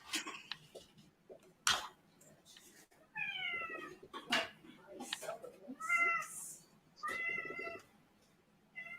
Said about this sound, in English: tell that cat to shut the hell up